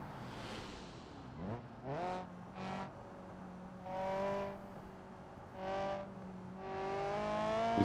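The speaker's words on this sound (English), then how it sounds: "you can probably hear double car noises" Car engines in the BeamNG driving game, with revving pitches rising and falling in several separate bursts over a steady engine drone, moderately loud and close.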